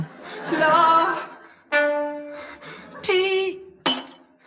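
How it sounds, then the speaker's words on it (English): Water-filled ordinary drinking glasses struck in turn, ringing out clear, sustained bell-like notes of a rising scale, several separate tones each with a sharp onset and a long decay, close and fairly loud. "the scale produced by filling to different levels these 7 ordinary glasses"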